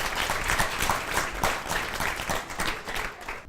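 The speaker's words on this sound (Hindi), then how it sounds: "एक बार ज़ोरदार तालियां इनके लिए" Audience applause fills a gathering hall for a woman called up to speak at a spiritual event, dense steady clapping throughout, with her voice beginning to greet the assembly over it.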